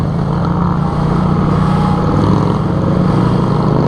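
A lowered Yamaha MT-07 motorcycle with its stock exhaust gives a steady, loud engine drone with a low rumbling exhaust note, constant and unbroken, with no voices.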